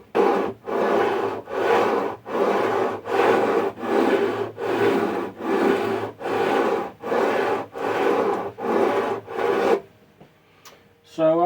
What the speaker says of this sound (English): Let's grind some metal.